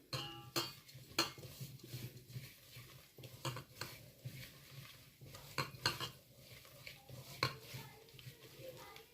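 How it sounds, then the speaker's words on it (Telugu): Amla pickle ingredients being mixed with salt in a bowl: repeated scraping and clinking stirs, quiet and steady, with a faint low hum underneath. "ఇవన్నీ ఇప్పుడు బాగా కలుపుకోవాలి"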